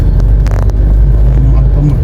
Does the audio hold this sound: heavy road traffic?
yes